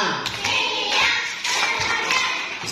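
A classroom group claps hands in a quick, irregular pattern of counted bursts, close and fairly loud, with no clear speech.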